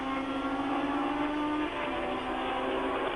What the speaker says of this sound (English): up to the line come the battle for second and third places, Villeneuve and Arnoux, Ferrari and Renault